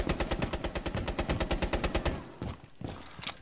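Automatic gunfire in Rainbow Six Siege: a rapid, evenly spaced burst of loud, close shots runs for about two seconds, then a few scattered shots and clatter follow.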